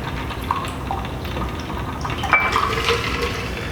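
Liquid pours softly into a glass, a faint trickling fill with light clinks of glassware nearby.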